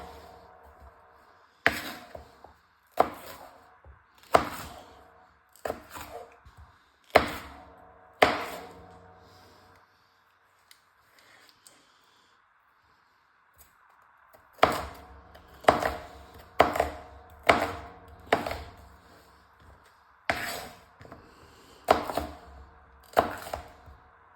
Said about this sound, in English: you're going to do them into strips, and then you're going to just slice it basically